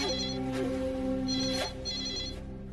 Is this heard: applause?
no